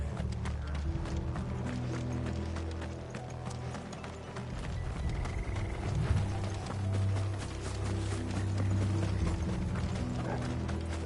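Horses clip-clopping in the video game Final Fantasy XVI, a steady rapid hoof rhythm over rattling mechanical clatter and a low rumbling music bed, continuous throughout.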